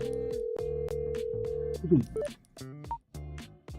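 An outgoing call in the Endless Monday: Dreams and Deadlines video game rings repeatedly and goes unanswered, a series of short, clear electronic ringback tones repeating at a steady pace, followed by a few brief beeps and tones.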